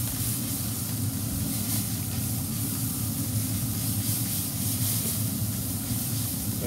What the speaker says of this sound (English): I'm gonna go ahead and spray it down with some more water